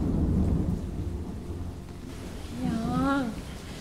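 Steady rain and low thunder rumble through a storm, with a voice speaking partway through and breaking into a rising, sing-song cry near the end.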